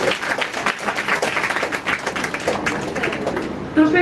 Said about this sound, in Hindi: तो इनके लिए ताली बनती है।